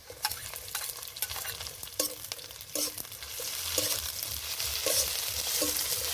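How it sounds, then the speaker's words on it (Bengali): Ginger and garlic paste with slit green chillies fries in hot oil after well-browned onions, giving a steady close sizzle broken by repeated scraping stirs of a spatula, the frying growing louder toward the end. "আদা রসুন কিছুক্ষণ ভেজে নেব"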